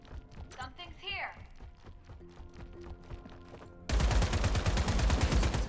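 Rapid quad cannon gunfire from a front-mounted installation in the Wildgate video game, a dense burst of loud shots that gets heavier toward the end, mixed with other game effects.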